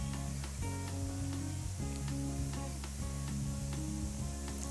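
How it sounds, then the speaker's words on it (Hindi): Onions frying in oil sizzle with a continuous crackle, overlaid by low tonal hums and occasional sharp ticks and clinks. "हमने इन प्याज़ों को फ्राई करना है इस तेल में"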